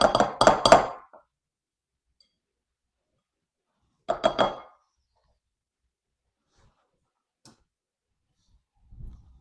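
A spoon clinks against a bowl while stirring a no-bake Christmas candy mixture, heard as two short clattering bursts separated by silence, close and fairly quiet.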